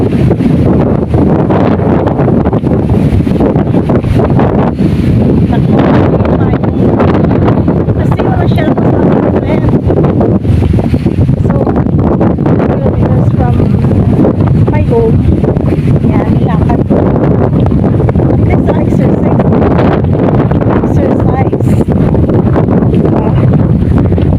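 Strong wind buffets the microphone in a steady, loud roar throughout, with gusty low rumble and no clear break.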